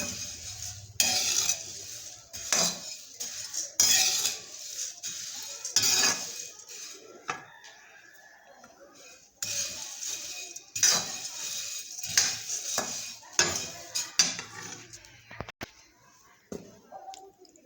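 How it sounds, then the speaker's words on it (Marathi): Puffed rice roasting in a kadhai while being stirred, giving repeated clinking scrapes of a metal spoon against the pan in irregular bursts, with quieter pauses between them and some background voice. "हे पहा आपले मुरमुरे भाजले आहेत"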